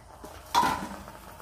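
Raw mango jelly being stirred in a pan, with a brief scraping clink of utensil against the pan just past the half-second mark, then quiet.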